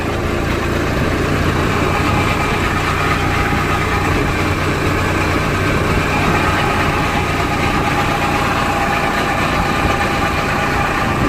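A vehicle with a gear-lever fault making a rattling noise in top gear, heard as a loud, steady engine drone with a gritty rattle running throughout, no talk over it.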